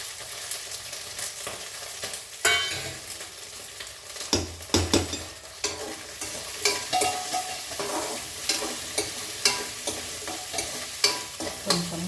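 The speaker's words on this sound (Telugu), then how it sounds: "పచ్చిమిర్చి వేయించేసుకుందాం" Green chillies frying in a little oil in a pan, a steady sizzle broken by repeated scrapes and clinks of a spoon stirring, close and fairly loud with no talk.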